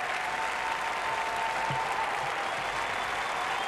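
A ballroom crowd at a world Latin dance championship claps steadily after a paso doble, a dense, even wash of applause from a large audience with no voices over it.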